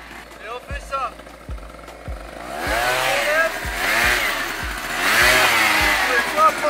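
Booster scooter engine revving and accelerating in repeated bursts during wheelie practice, loud and close, with a voice talking over it.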